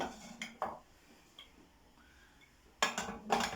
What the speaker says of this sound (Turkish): Fincanlarımı böyle teker teker diziyorum.